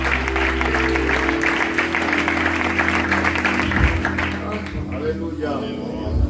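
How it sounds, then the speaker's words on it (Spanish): Congregation applause during a church service, loud dense clapping over a sustained low hum, thinning out toward the end as voices come through. "dándole un fuerte aplauso a Cristo, en el nombre del Señor"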